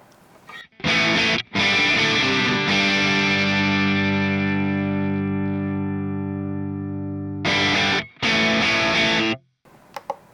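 An electric guitar through the JCM 800 drive channel of a JOYO Jam Buddy II amp: a short distorted riff, then a long sustained ringing chord that slowly fades, then another choppy burst of distorted chords.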